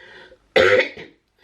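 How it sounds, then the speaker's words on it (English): A woman coughs once, a single harsh throaty burst that trails off, heard close and alone after a quiet moment. "Said she, coughing."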